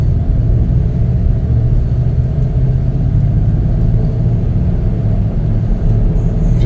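A 2019 Chevrolet Traverse LT on a test drive, its engine and road noise forming a steady, close, low rumble throughout with no talking.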